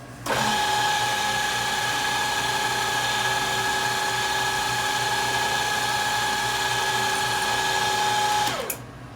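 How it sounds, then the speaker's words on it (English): A carbide spot drill cuts into a curved surface of hardened stainless steel with a steady, high-pitched whine that holds evenly for several seconds before cutting off abruptly. "I use this spot drill"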